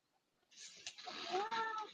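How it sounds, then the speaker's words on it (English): An orange cat gives a single drawn-out meow, quiet and close, rising in the middle and lasting about a second and a half after a near-silent start. "I'm an orange cat and I'm crazy. You say meow."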